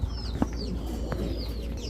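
A female Lalpatti Giribaz pigeon and others coo softly nearby, a short, low murmuring with a faint knock or two, and no one talking.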